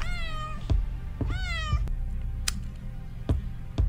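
A cat in a scary video game meows twice, drawn-out and wavering, each call followed by sharp thuds and clicks from in-game movement.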